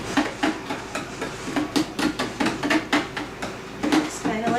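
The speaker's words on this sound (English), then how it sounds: "Now we're gonna stir vigorously to make sure it's mixed well." Apple cider mixture for home brewing, made from a Mr. Beer hard cider kit, being stirred vigorously: a spoon clacks and scrapes against the vessel in a quick, repeated knocking rhythm with some sloshing.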